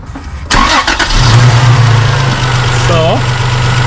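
A 2005 Holden Rodeo engine cranks and catches after a brief quiet moment, then settles into a steady, even idle close by, with a faint voice briefly in the background.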